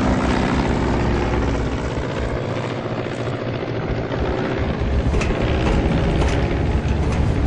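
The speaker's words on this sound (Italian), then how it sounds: "Ok, siamo in un aereo." Steady, dense engine drone inside an airplane cabin in a video game, a loud continuous broadband roar with a low rumble that holds level throughout with no talking.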